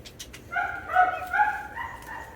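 A dog barks on command, giving several short yips and woofs in a quick series, moderately close with a faint hiss behind.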